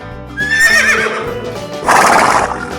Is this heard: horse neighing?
yes